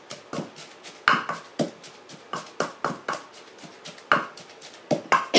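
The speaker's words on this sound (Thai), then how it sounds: "เขาก็จะเอาปลากระป๋องมาโขกก่อนค่ะ" Canned fish pounded in a mortar for an eggplant and fried chili soup, a run of irregular dull thuds and knocks, close and moderately loud, some blows heavier than others.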